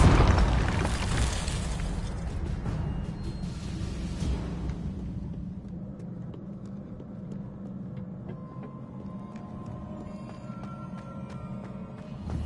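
A Confringo fire spell detonates in Hogwarts Legacy, a loud burst with booming crackle up front that slowly fades into a lingering rumble and scattered debris ticks, with no talking.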